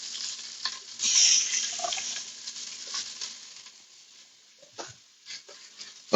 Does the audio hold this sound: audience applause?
no